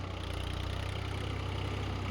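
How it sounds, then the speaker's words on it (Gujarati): A tractor engine idling nearby in a farm field, a steady low rhythmic chugging throb that holds even throughout. "ત્યાંથી ટ્રેક્ટર લઈને ખેતરમાં આવી ગયા દાંતી મારવા."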